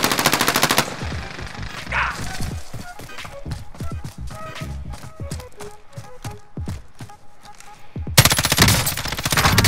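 Bursts of rapid automatic gunfire from a Call of Duty Warzone match, loud and dense at the start and end with scattered single shots and clicks in between, and a voice talking over part of it.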